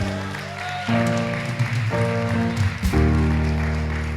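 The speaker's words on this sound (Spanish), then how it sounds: "Dale un aplauso a Dios." Church congregation applauding, a burst of clapping that starts abruptly and carries on over sustained organ or keyboard chords and a voice, the music shifting between held tones.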